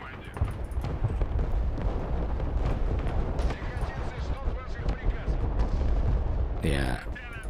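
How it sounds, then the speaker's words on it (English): Heavy incoming artillery barrage in the video game Broken Arrow, a dense continuous rumble of booms and blasts that keeps up throughout, with a voice talking over it. "That is a lot of artillery coming in."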